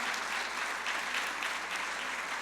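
A congregation at a church conference claps in steady, dense applause, moderately loud and sustained throughout with no voices over it.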